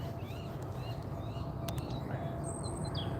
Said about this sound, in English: It's lovely just sitting down here listening to all the different birds singing.